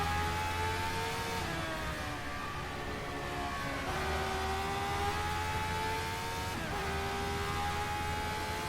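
Engine of a classic Formula 1 car heard from the cockpit in the rFactor 2 racing simulator, a loud, steady high-revving drone with rising pitch through the gears and two sharp dips at upshifts, no talk over it.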